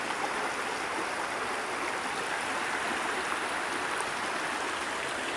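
Oak Creek rushes steadily at high water, a dense, even roar of flowing stream close by with no pauses.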